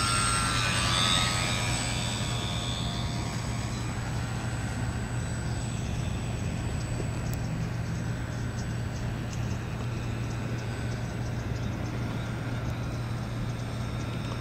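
A model PBY seaplane flies steadily overhead over a pond, its small engine droning with a constant buzzing tone, fairly loud and continuous, with faint outdoor hiss and no talking.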